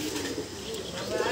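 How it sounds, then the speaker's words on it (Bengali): Madrasi pigeon (an Indian high-flying breed) cooing softly and continuously, close by, in a short burst over a steady background of room noise. "এটা মাদ্রাসি পায়রা"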